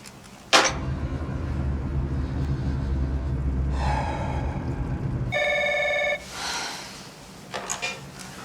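A telephone rings in bright repeated electronic bursts, set against a low hum and a sharp knock that opens the scene, with quieter rustling near the end.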